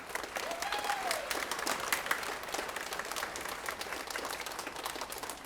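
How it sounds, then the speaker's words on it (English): An audience applauds at a school band's Halloween-themed concert performance, with steady, dense clapping that fills the hall from start to finish, and a brief cheer rises early on. "Can we give her a round of applause, please?"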